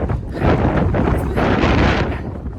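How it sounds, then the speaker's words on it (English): Strong, steady wind roars across a high mountain trail near James Peak on the Continental Divide, a loud broadband gusting rush that buffets the microphone continuously with no voices. "This wind is intense."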